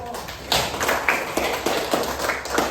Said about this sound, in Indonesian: Terima kasih. Tepuk tangan dulu.